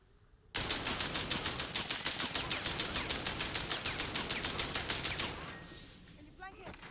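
Rapid machine gun fire from a Call of Duty Modern Warfare match, a loud sustained burst of evenly spaced shots lasting several seconds before trailing off into quieter game sounds.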